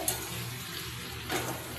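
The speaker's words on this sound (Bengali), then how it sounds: "পেঁয়াজটা যতক্ষণ না ভাজা ভাজা হচ্ছে, আলু ওলটা ভাজা ভাজছে, ততক্ষণ ধরে নেড়ে নেবো" A quiet, brief sizzle of elephant foot yam frying with shrimp and onion in a pan, with a soft stirring scrape near the end.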